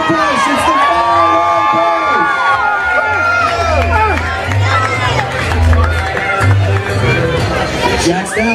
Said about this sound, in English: Come on, guys, cheer him on